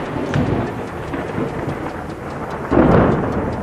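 A thunderstorm with steady rain: continuous broadband rainfall hiss with low rumbling thunder, swelling into a louder, nearer thunder roll about three quarters through, with no voices.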